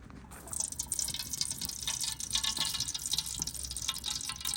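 Cooking oil poured into a pot set over a fire, giving a steady, close liquid trickle and splashing for several seconds over a busy outdoor background hiss.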